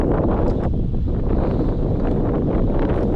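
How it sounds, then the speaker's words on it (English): Wind blows across the water while kayaking at Ozello, Florida, a loud, constant roaring buffet on the microphone with gusty swells throughout. "it looks like the wind is laying down just a little bit"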